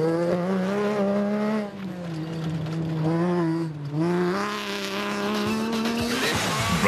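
Castrol Toyota Hilux rally car at the Toyota Dealer 400 2010, engine roaring loud and close from onboard, revs rising and dipping with gear changes and brief tyre scrabble through long grass, no talk.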